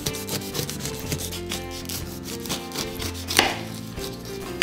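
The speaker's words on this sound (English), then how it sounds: "We're going to chop the outer layer off, just cutting it down the side" A knife cutting the tough outer skin off a whole pineapple down its side, a close run of rough rasping, scraping strokes over a board, with a sharper crunch near the end and no talk.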